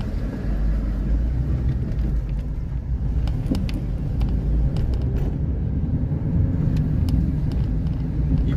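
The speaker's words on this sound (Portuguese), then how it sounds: "A Isabela gosta de ver o barulho dos carros." Road traffic rumbles steadily nearby as cars pass by the beach at Gravatá, Navegantes, a continuous low roar with occasional lighter swishes and no talking.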